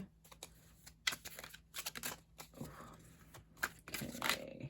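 Tarot cards being shuffled up close, a quick run of crisp riffling and snapping bursts with brief pauses between them.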